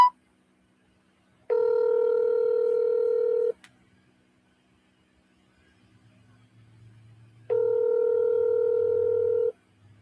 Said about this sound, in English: I'm gonna call him and ask him for her phone number.